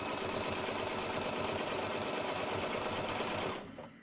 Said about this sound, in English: I'm okay just holding it and stitching it at the same time